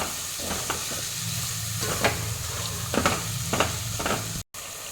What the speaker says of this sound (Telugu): తర్వాత మళ్ళీ ఇట్లా కలపాలి.